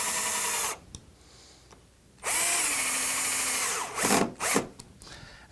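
Power drill driving screws to mount an inside-mount cord tensioner for Hunter Douglas Duette honeycomb shades, in two loud bursts: a short one and then a longer whirring run that winds down, with nobody talking.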